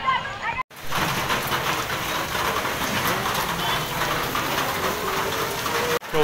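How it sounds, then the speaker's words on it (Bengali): Heavy rain pours down over a market, a dense, steady roar of falling water that fills the whole stretch at close range, broken only by two brief drop-outs. "প্রবল হারে বৃষ্টি পড়ছে বৃষ্টিতে আটকে আছি"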